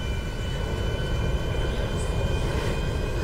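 A large plane's engines roar steadily in the GTA 5 Online video game, a constant dense drone with a thin high whine running through it and no break or change in loudness.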